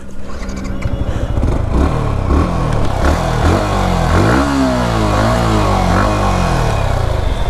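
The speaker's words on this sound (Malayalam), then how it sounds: "നമ്മളെ അക്രോപോയിക്കിൻ്റെ എക്സോസ്റ്റ് സെറ്റ് ചെയ്യുന്നതിന് മുമ്പായിട്ട് ഈ വണ്ടിയുടെ എക്സോസ്റ്റിനോട്ട് കേൾപ്പിക്കണം" A Yamaha R15 M on its stock exhaust revs hard and close, the engine note climbing and falling through repeated throttle blips with no one talking.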